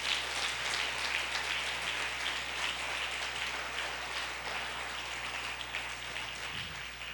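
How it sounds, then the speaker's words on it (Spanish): A church congregation at a Spanish-language family service applauds, a continuous wash of clapping hands that stays fairly even and slowly fades slightly, heard at a moderate distance without speech. "Dale un fuerte aplauso al Rey."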